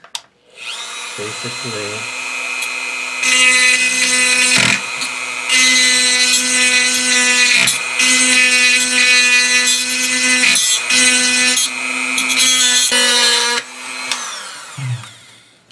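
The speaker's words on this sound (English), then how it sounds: "I'm going to use a round tip Dremel" A Dremel rotary tool with a round tip grinding on an AK-47 rail part, a loud high whine in sustained bursts with brief stops between, someone speaking briefly at the start.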